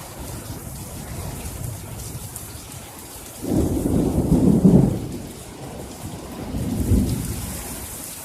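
A thunderstorm with heavy rain under a blood-moon night: a steady hiss of downpour on surfaces, broken by a loud rolling thunderclap that swells and fades, then a second softer rumble a few seconds later.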